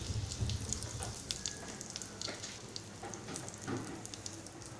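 Asafoetida sizzles in hot oil for a Malvani chicken curry, a steady crackling fry with scattered pops and brief spits, close and fairly quiet, with no talking.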